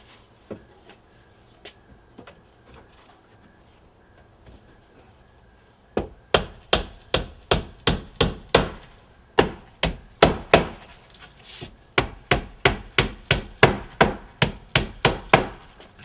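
A hammer drives old nails back into the brick molding of a rotten entrance door frame: a few light taps, then a quick, steady run of sharp, close blows, about two per second, with no talk.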